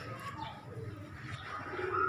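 A pet pigeon of a prized breed coos softly and low in a continuous murmur, fairly near, while other birds call faintly in the background.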